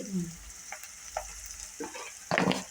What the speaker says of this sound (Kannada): ಈಗ ಉಳ್ಳಾಗಡ್ಡಿ ಚೆನ್ನಾಗಿ ಫ್ರೈ ಮಾಡ್ಕೋಬೇಕು ನೋಡ್ರಿ ಕೆಂಪಾಗುತ್ತಲ್ಲ